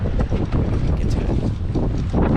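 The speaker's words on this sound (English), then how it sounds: "You hear the wind too, yeah." Strong wind gusting across an exposed mountain ridge trail at Angel's Landing in Zion, roaring loud and close as steady buffeting microphone noise that swells and dips throughout.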